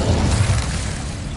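Incendio fire spell cast in Hogwarts Legacy, a loud low booming burst that rolls out and fades over about a second, with no talk.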